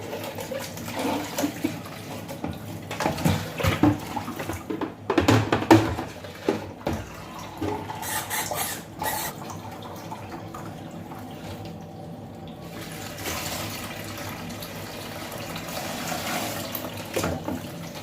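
Water poured into a measuring cup while making a natural zobo drink, a running splashing flow with uneven surges, close and moderately loud, settling to a steadier trickle.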